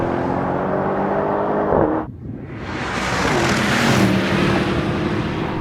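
A Tesla Model 3, BMW M850i and Mercedes-AMG E63 S race, heard as a loud sustained engine and road roar with a brief dip as a gear change or lift, then rising again with strong wind and tyre noise.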